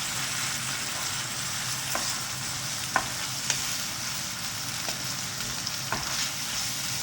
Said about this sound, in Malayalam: അപ്പോൾ നമ്മൾ സവാള ഇട്ട് വരട്ടിയെടുക്കുന്നുണ്ട്.